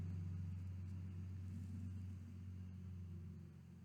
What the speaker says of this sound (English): a truck going by. The truck passing by very slowly.